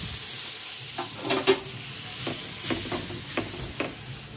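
Dosa cooking on a pan, a soft steady sizzle with a few scraping and stirring clinks of a spatula against metal, fairly quiet and close, with no talking.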